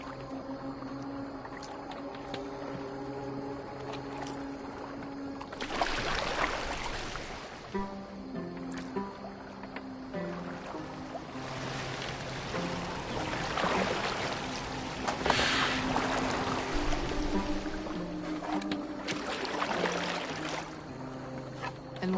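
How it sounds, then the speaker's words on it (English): Boat gliding over water in the video game Assassin's Creed Valhalla, a steady wash of water and hull noise beneath a musical score with swelling bursts. "Are you well enough to steer this boat?"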